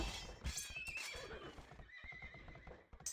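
A horse whinnies from a stable in the Age of Empires strategy game, a shrill neigh with clip-clop hoofbeats amid busy game sounds.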